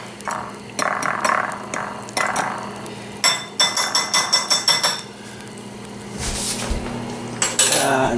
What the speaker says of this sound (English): Drop the fork in the sink and dump our eggs in.